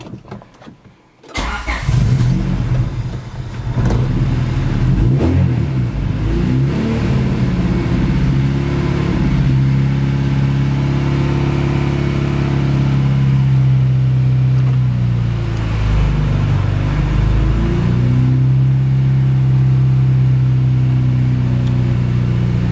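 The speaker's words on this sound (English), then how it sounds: "I'm gonna start it back up and give it some gas." A Honda Accord CB7 with a cold engine cranks and catches, then settles into a loud, steady idle. The engine is revved briefly a couple of times before easing back down.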